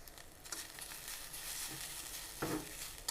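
Freshly grated coconut dry-roasted in a pan, giving a quiet, continuous rustling scrape of stirring with a faint sizzle and a few louder scrapes near the end.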